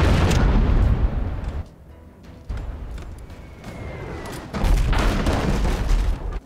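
A ship's mortar firing in the Abandon Ship game, deep booming blasts with rumbling tails, one loud burst at the start and another heavy boom near the end amid a busy naval-battle din.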